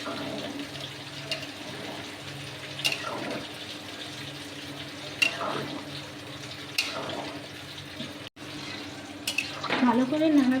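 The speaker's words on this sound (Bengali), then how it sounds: "এবার আমি জল দিয়ে দেব" Water runs into a pot of chicken curry with a steady close pouring wash, a few light clinks, and a louder gush near the end.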